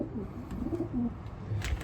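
Racing pigeons coo softly while being basketed before a race, low murmuring calls repeating close by and fairly quiet, with faint rustling in the background.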